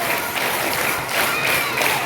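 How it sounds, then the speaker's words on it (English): Schoolchildren clapping together in a classroom during a Teachers Day celebration, a brief burst of many small hands in quick, busy rhythm, moderately loud and close. "Let us clap."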